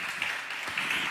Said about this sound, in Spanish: Dele fuerte palmas